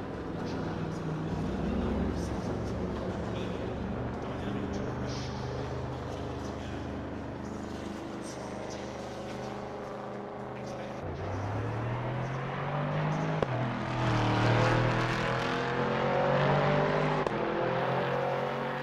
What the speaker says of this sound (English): We're here in Assetto Corsa Competizione to test out the new free Ford Mustang GT3 car.